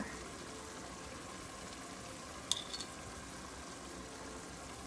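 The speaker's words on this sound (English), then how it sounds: "I'm gonna let this water just kind of simmer and cook off of the meat a little bit and thicken up" Water simmering with seasoned ground meat in a pan on medium-high heat, a faint, steady bubbling hiss with one brief clink partway through, and no voices.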